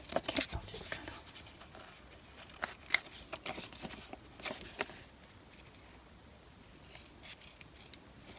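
Scissors snip through paper while a junk journal is made with envelope pockets, producing soft, close, intermittent cuts and rustles with a few short pauses. Someone speaks quietly at times.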